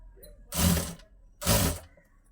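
A sewing machine stitches a lined blouse in two short, close bursts of mechanical whirring with a brief pause between them, and no talk over the sound.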